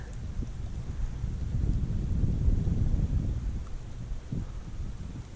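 Wind gusting at Lamarck Lakes, a mountain lake near Bishop, California, a steady low rumbling buffet on the microphone that swells in the middle and eases toward the end, with no voices.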